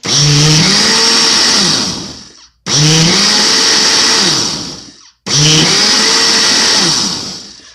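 A blender running its smoothie program whirs loudly in three long bursts of about two and a half seconds each, separated by brief pauses, steady and close.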